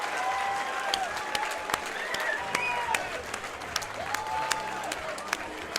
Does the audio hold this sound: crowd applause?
yes